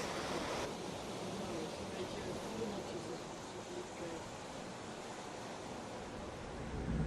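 Ocean waves wash steadily around a sailing boat at night on the passage from Cape Town to Walvis Bay, Namibia, a continuous broadband rushing with wind noise, no distinct breaks or voices.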